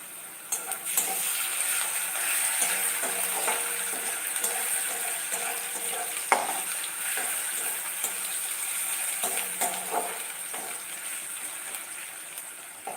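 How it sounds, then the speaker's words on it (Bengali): Soft, steady sizzling of crushed garlic and ginger frying in oil, with occasional stirring scrapes and clinks throughout. "রসুন আদাটা কিন্তু একটু ভাজা ভাজা হয়ে যাক"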